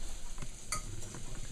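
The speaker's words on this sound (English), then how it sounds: "Yeah, I've got a good sizzle going in." Jalapeno cornbread batter poured into hot grease in a pan sizzles and crackles steadily for a moment, close up, with a brief brighter burst partway through and no talking.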